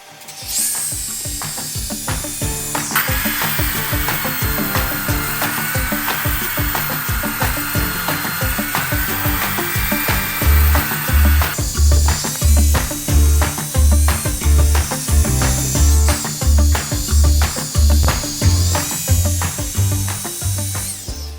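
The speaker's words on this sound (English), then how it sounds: "So let's get it sanded up, see how it goes." A lathe spins with a steady whine while sandpaper rasps against black walnut, with rhythmic thumping as the piece turns, loud and close.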